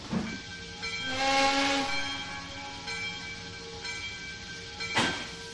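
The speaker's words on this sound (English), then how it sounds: "Backwards should have been 3 whistles." A steam-era locomotive whistle in the Trainz 2019 railroad simulator on the C&O Hinton route sounds a couple of clear tonal blasts over a quiet hissing rail background.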